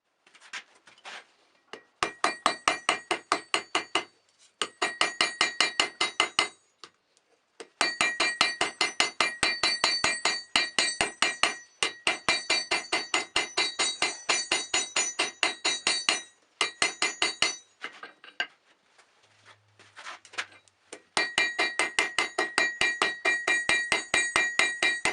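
A hammer forging a scrap steel hunting knife blade on an anvil rings out in fast, rhythmic bursts of bright metallic strikes, with brief pauses between runs, close and loud.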